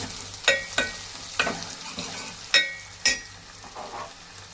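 Onions fry in a pan until golden brown, a low continuous sizzle broken by about six sharp clinks and scrapes of a stirring spoon against the pan, near and moderately quiet.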